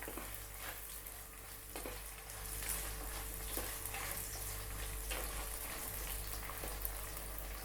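Small onions sautéing in oil for Tamil garlic kuzhambu, giving a faint, steady sizzle with occasional soft stirring scrapes over a low background hum.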